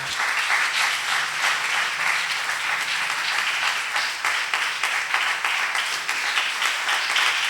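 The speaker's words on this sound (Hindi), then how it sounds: "तालियों में खुदावंद के खादिम को दावत देता हूँ।" A church congregation at a sermon meeting applauds steadily to welcome the preacher, many hands clapping in an even, sustained wash with no speech over it.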